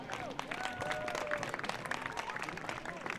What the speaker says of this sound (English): Please give a round of applause for Alex Schmidt.